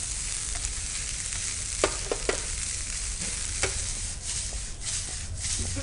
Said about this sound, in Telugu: పచ్చి కొబ్బరి తురుము చేస్తాం కదా, సో అది ఫ్రై చేసేసుకుంటున్నాము